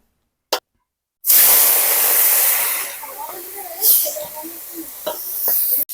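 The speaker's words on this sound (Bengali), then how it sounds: "চিংড়ি মাছ ভালোভাবে বেছে নিয়েছি, হলুদ নুন মাখিয়ে নিয়েছি, এবার ভেজে নেব।" Prawns coated with turmeric and salt hit hot oil with a sudden loud hiss after a brief click, frying in a broad steady sizzle that slowly softens, with a voice speaking faintly over it later on.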